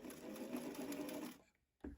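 A sewing machine runs a rolled hem on a 1950s wiggle dress, a steady fast stitching whir heard up close before it stops abruptly, followed by a single soft thump.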